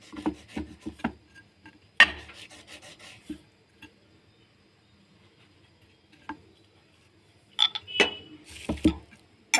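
Rolling pin pressed and rubbed over bread slices on a board, producing short scraping rolls in bursts with quiet pauses between, fairly close and soft.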